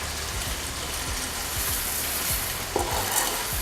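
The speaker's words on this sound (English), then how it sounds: "And now it's time to put the pasta into the pan." Fideuà noodles go into a hot pan with caramelized ingredients and fry in a close, crackling, rain-like sizzle, with light scrapes and a sharp clink near the end, no voices.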